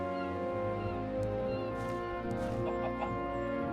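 Chickens cluck in a small pen in the Minecraft video game, with short clucks scattered over a steady, loud layer of tonal background music.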